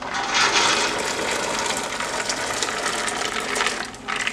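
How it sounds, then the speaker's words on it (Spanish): Corn kernels pour into a pot holding three litres of boiling water, a continuous splashing, gushing rush that stays loud and close for several seconds with no talk. "ya lo voy a vaciar a esta olla donde tengo 3 litros de agua que ya están hirviendo"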